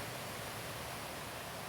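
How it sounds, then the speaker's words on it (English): Heavy rain pours down steadily after several days of nonstop downpour, a dense, even hiss with no breaks, close and fairly loud, alone without any talk. "It has been raining non-stop for several days now."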